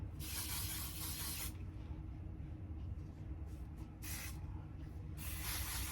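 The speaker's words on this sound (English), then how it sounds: "hairspray in my hair." Hairspray hisses onto hair in two steady bursts, the first long and the second short, then a third begins at the end. The spray is close and alone over a low background rumble.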